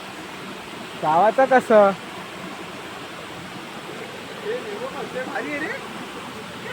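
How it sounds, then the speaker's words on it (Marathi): A small waterfall somewhere in rural Maharashtra rushes in a steady, even wash of noise, with people talking briefly over it. "चांगले मिनी वॉटरफॉल."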